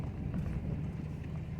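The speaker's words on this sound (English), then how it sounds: "We're going through the boundary across the cattle guard." Vehicle crossing a cattle guard at a fence-line boundary on a dispersed camping road in Kaibab National Forest near the Grand Canyon South Rim: a continuous low rumble with rapid uneven thumps, close and steady, no talk.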